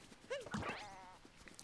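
A sheep bleats in Super Mario Odyssey, one short wavering bleat followed by a longer quavering call, quiet and close over soft game background.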